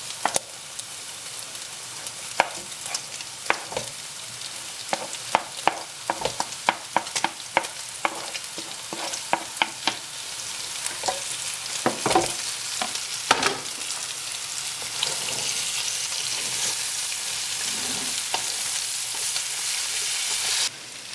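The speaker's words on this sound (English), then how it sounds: "there's 2 large onions going in" Two large onions, sliced lengthwise, fry in a Nepalese Gurkha curry with a constant crackling sizzle broken by frequent stirring scrapes and taps, loud and close, with no talking.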